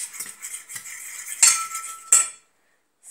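A fork stirs food in a dish, giving a run of close metallic clinks and scrapes against the dish. A couple of sharper taps stand out before it falls silent.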